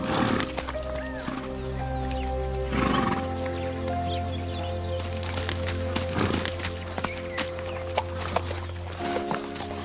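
Wild horses fighting for dominance neigh and whinny loudly and repeatedly, with hooves stamping and clip-clopping close by, and low rumbling snorts between the calls.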